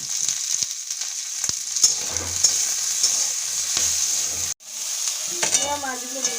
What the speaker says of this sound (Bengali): ফোড়নটা ভেজে দেবো আর জিরে দেবো এক চামচ মতন